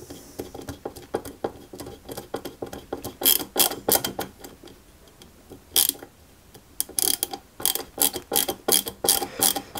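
Small screw driven home with a hand screwdriver while assembling a 1961 London Routemaster RM857 scale model bus, giving close, dry ratcheting clicks in uneven bursts with brief pauses, no voices.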